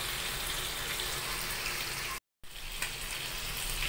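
Chicken inasal sizzling and frying in a pan right after being flipped, a steady loud hiss and crackle that cuts out briefly and then resumes, with no talk.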